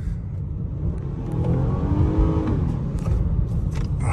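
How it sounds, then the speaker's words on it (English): An Acura RDX tech crossover accelerating hard on a back road, heard from inside as a steady engine rumble and whir that builds through the run and holds. No one speaks. "mashing that gas down, that thing wanted to take off"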